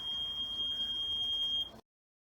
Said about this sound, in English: Why is the box beeping at me?